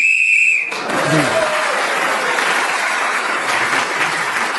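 A referee's whistle blown to end a turn in a radio panel game sounds briefly and shrilly at the start, followed by steady applause from a studio audience.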